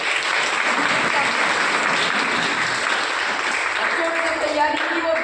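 Sustained, loud applause from an audience of children and adults at a school fire-safety week event, a dense even roar of clapping lasting the whole stretch, with faint voices near the end.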